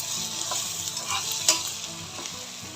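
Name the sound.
sautéing tomato masala with spices, coriander and mint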